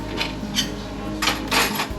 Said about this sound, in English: I cut my steak here